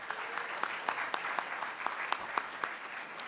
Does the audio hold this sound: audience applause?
yes